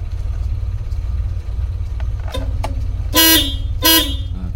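The horn of a Suzuki Carry pickup sounds in two short loud blasts, close by, over a low steady engine idle with no talking.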